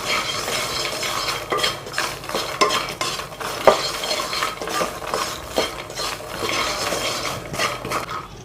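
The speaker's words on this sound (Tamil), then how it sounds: "ஒரு 1 minute ஆகுது, நல்லா மிக்ஸ் பண்ணிப்போம்." Fried lotus seeds (makhana) are stirred with chaat masala in a pan. A spoon makes close, rapid scraping and rattling strokes over a light sizzle.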